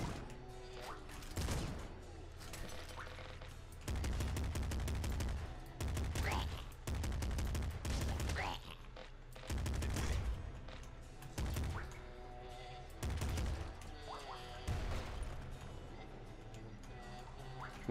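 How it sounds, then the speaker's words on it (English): Rapid bursts of double shotgun blasts from the video game Nuclear Throne, loud and close, firing in clustered volleys with short pauses between, over a pulsing game soundtrack. "double shotgun makes things go away faster than a normal shotgun"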